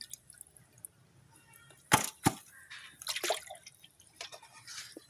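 Water is poured from a jug onto small potted plants, heard as a couple of sharp splashes followed by softer trickling and drips, close and quiet, with no talking.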